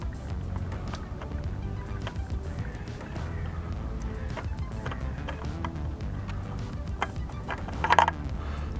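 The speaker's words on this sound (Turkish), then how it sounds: "Evet yağ filtremizi de söktük." A motorcycle oil filter being unscrewed by hand during an oil change: faint, steady mechanical scraping and small clicking turns at close range, with a slightly louder clatter near the end.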